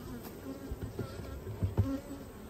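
Honey bees hum steadily in an open beehive in Spencer County, a close, continuous buzzing with soft handling bumps and no talk.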